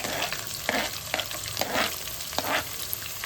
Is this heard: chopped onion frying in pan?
yes